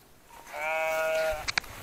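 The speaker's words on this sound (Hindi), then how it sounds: "बहुत सारे भेड़ और बकरियाँ हैं, मैं आपको दिखाता हूँ।" Sheep or goats bleat on the Annapurna Base Camp trek in Nepal, between Ghandruk and Sinuwa. A single long, wavering bleat sounds close and clear, then two short sharp clicks follow.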